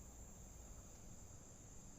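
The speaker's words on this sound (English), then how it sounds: "You might even be able to hear the cicadas in the trees here." Cicadas in trees on a still summer morning, a continuous high, even buzzing drone held steadily throughout over a faint, quiet background.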